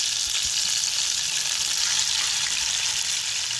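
Steady, loud sizzling of chicken frying in a pan with gravy, a continuous close hiss with faint stirring underneath and no voices.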